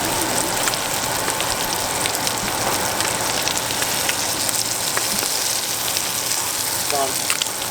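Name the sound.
blackened lobster sizzling in a hot pan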